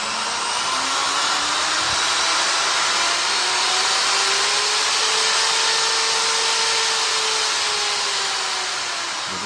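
A power drill run through an SCR AC dimmer for speed control whirs continuously at a steady mid speed, its motor pitch rising slightly and then easing back, with no talking.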